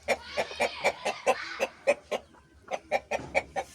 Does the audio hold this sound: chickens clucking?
yes